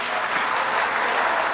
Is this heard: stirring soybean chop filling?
no